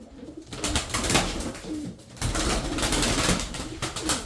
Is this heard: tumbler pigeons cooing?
yes